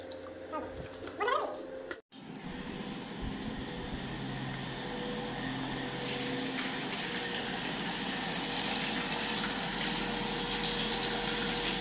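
An electric water pump motor runs steadily, drawing water through a pipe with a continuous humming churn and gushing flow, after a brief thump and pause near the start.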